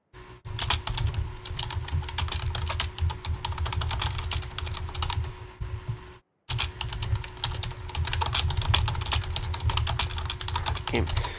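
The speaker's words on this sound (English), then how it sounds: "typing all this stuff." Continuous rapid typing on a computer keyboard during a programming lecture, with dense clicking keystrokes running steadily throughout and a brief pause near the middle.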